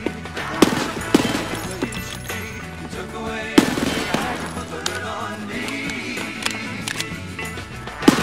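Rapid gunfire in the shooter Escape from Tarkov: sharp bursts of shots crack out at intervals over dense game sound, with a few louder reports standing out, and no talking.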